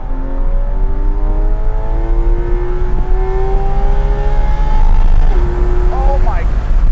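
A loud Porsche 911 GT3 RS engine revs up steadily through the gears, its pitch climbing in long sweeps before a shift near the end, with voices speaking over it.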